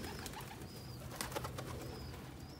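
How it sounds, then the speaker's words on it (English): Young pigeons and older birds at a loft, with soft coos and faint repeated whistling calls over a quiet outdoor background, plus a brief flutter midway. "Now they're following the older birds."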